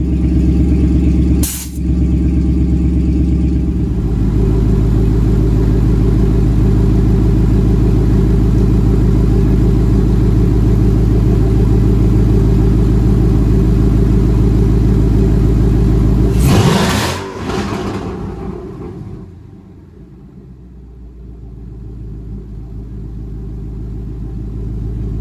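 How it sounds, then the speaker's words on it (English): An S550 Ford Mustang idles loudly and close during a nitrous test, a steady deep rumbling drone with a brief blip near the start, then a rising rev and a sharp burst before the engine drops to a lower, quieter idle. "I'm going to turn on the car."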